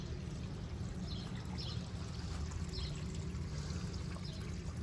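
Water runs steadily from a garden hose into a yard, a soft continuous gushing and pouring with faint splashy trickles on top.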